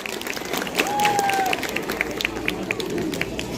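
Applause from an audience at a school annual day and result declaration ceremony, steady clapping through the whole stretch with scattered sharp claps and a faint whistle-like tone, at moderate loudness.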